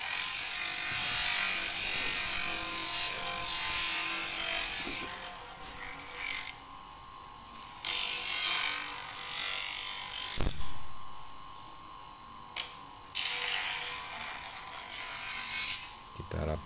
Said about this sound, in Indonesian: kita kembali rapikan dengan menggunakan gerindra duduk